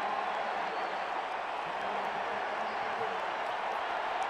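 A college football crowd at Autzen Stadium during the 2007 USC at Oregon game makes a steady, dense roar of cheering that fills the whole stretch, with a voice faintly talking underneath.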